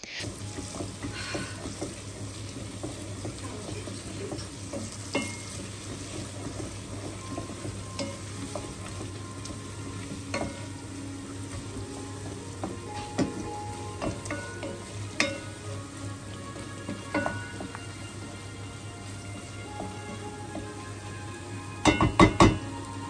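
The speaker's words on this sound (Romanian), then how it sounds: "Apoi, prăjim timp de 30 de secunde pentru a permite pastei de tomate să-și dezvăluie aromele." Tomato paste fries with a steady sizzle in a pot while a utensil stirs it, scraping and clinking against the sides. A flurry of louder clinks comes near the end, and no one speaks.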